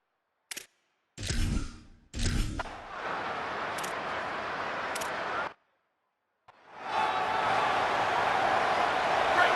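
Football stadium crowd at halftime of an Aggies game, a broad sustained roar of cheering in long swells broken by a few sharp bursts and brief gaps, loud and continuous with no talk over it.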